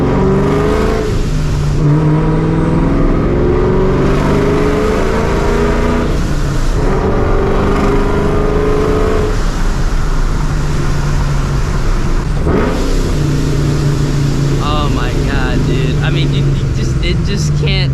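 A supercharged 2V Mustang drives on back roads, its engine repeatedly revving up and shifting in rising and falling pulls, loud and close from inside, with brief gaps between pulls.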